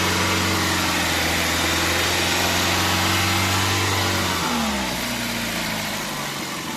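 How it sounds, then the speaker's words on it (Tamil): A Hyundai i10 automatic's engine holds a raised, buzzing rev, then drops back and settles toward idle, heard close with no voices. "ரேஸ் பண்ணுறோம் பாருங்கள்."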